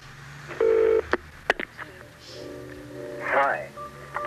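Telephone number being dialed on a push-button phone, a short tone and clicks, followed by a recorded announcement voice on the line, with faint broadcast background throughout.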